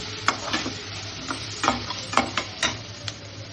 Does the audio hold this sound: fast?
no